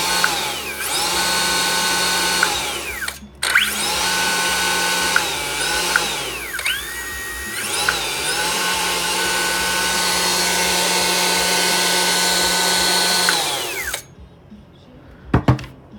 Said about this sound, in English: while the motor accelerating, I can feel the force